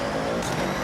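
Loud car engine from the Forza Horizon racing game, a brief close revving burst with a steady mechanical drone and no voices.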